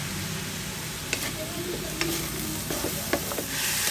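Tofu sisig stir-frying in a pan after soy sauce goes in, a continuous loud sizzle broken by a few sharp scrapes of a spatula, with no voices.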